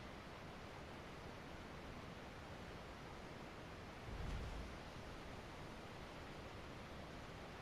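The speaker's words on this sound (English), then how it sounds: "that waterfall sound really messes with my my PC" Waterfall in the ARK Mobile video game, a constant broadband rushing hiss of falling water with a brief low thump about midway, otherwise steady and unchanging.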